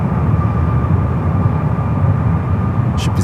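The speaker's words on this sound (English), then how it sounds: "Takeoff on the 28 left to flight to Kahului, flight 2623 at 737 MAX 8 with United" A United Boeing 737 MAX 8 takes off from runway 28 left at San Francisco airport, a steady, loud broadband jet roar holding constant throughout, with a faint brief chirp near the end.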